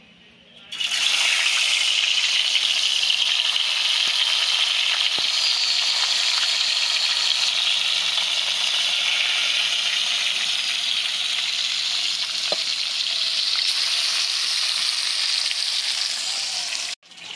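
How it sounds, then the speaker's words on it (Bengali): Rohu fish pieces laid into hot oil for a Bengali fish curry, giving a loud, steady, close sizzle that starts abruptly after a moment of quiet and holds evenly throughout, with no talking. "তেল গরম হয়ে গেছে, এবার মাছগুলো একে একে দিয়ে দিচ্ছি তেলের উপর।"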